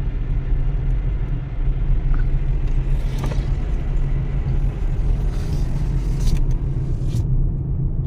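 Steady low rumble of a car rolling in neutral downhill at Wadi Jinn near Madinah, a loud continuous road and wind drone from inside the vehicle, with no talking.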